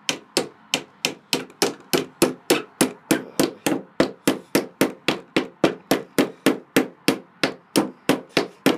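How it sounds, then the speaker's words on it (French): Steady hammering of nails into wood while building a cupboard: about thirty sharp, even strikes in a regular rhythm, loud and close, with no talk. "Donc je cloue avec la partie là"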